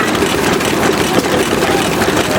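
An antique engine with a freshly richened carburetor idles loudly and close at an outdoor engine show in Batsto Village, New Jersey, giving a steady low chugging rumble with no speech.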